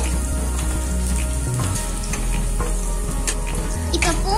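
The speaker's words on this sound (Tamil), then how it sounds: "இப்போ இதெல்லாம் நல்லா வதக்கிக்கலாம் நல்லா வாசனை வருது" Garlic sautéing in a pan for moong dal khichdi, a steady close sizzle and fry with occasional stirring scrapes, continuous throughout without talk.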